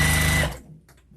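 A sewing machine runs a fast, steady stitch along a seam in a flannel infinity scarf, loud and close for about half a second before stopping abruptly, leaving faint handling noises.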